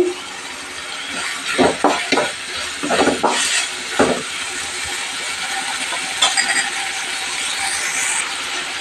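Chicken keema fries on a gas stove, a steady sizzle broken by a cluster of spoon scrapes and clinks against the pan, close and moderately loud with no voices.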